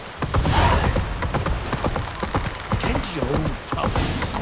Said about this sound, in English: I could sprint with my horse